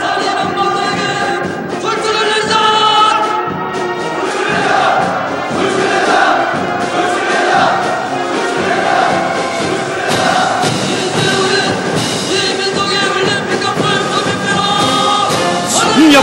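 A huge marching crowd roars in anger, a dense, loud, continuous wall of massed shouting voices that surges and swells without a break.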